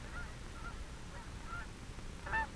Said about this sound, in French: Au mois de mai, le rivage se remplit de cris d'oiseaux.